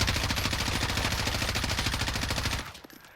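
An M4 rifle fitted with meta attachments fires in Call of Duty Warzone: one loud, rapid full-auto burst of evenly spaced shots that lasts about two and a half seconds, then cuts off into a short fading echo.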